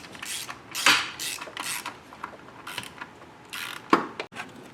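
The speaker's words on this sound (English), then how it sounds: "we're just tightening down the bolts a little bit, all around" Ratcheting wrench clicks and metallic creaks as bolts on a 4L80E transmission are tightened during installation in a third-generation Camaro, close by in short uneven bursts with pauses between strokes.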